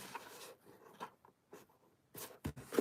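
A bone folder presses and scrapes along the panels of a paper box, making faint, sparse rubbing strokes in a quiet room, with a few louder, crisper scrapes at the end.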